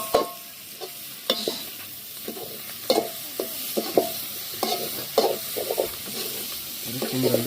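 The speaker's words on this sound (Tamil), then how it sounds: "போட்டு ஒரு குண்டு கிண்டுவோம்." Liver pieces stirred in a pot on a stove in a home kitchen, with repeated scraping and clattering strokes over a steady sizzle of frying, close and fairly loud, with no one talking.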